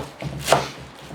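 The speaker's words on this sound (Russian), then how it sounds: "Друзья, режу зелень." A knife chops fresh green herbs such as coriander and sorrel on a board, giving a few soft, close cuts in a short burst with no talk.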